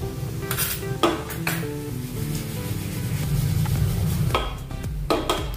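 Sesame seeds and a little mustard seed crackle and sizzle in hot oil in a pan, a steady frying hiss with scattered sharp pops and a few clinks of utensils, loud and close, with no talking.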